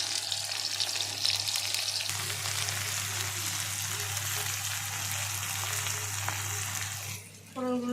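Pointed gourd (potol) slices fry in a pan with a steady, close crackling sizzle that runs throughout, with faint stirring and a brief clatter near the end.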